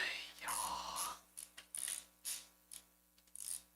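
A torque wrench tightens bolts on a 3.7 five-cylinder engine being swapped into a Fairmont station wagon, giving a quick series of close, sharp metallic ratcheting clicks and short bursts in a quiet garage.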